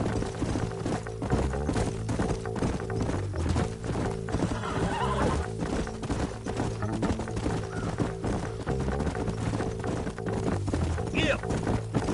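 Horses in Red Dead Redemption clip-clop at a steady walking rhythm, hooves close and clear, with a whinny near the end, over game music and occasional voices.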